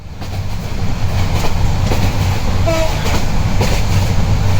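A passenger train running on the rail route toward Cox's Bazar gives a loud, steady rumble with rhythmic clatter of wheels over track joints, heard from inside the moving carriage with no talk.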